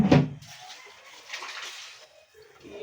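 Water is poured into a pressure cooker in a home kitchen: a brief splashing gush at the start, then a softer, steady trickle that thins out over the next few seconds.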